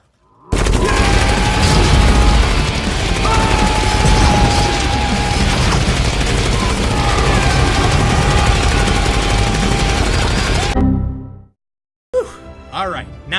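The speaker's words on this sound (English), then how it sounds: "conveniently placed anti-aircraft gun on the back of an APC" An anti-aircraft gun mounted on the back of an APC in an Uncharted game sequence, firing in a continuous roaring stream of rapid booming shots for about ten seconds, loud and close, before cutting off abruptly into quieter game sounds.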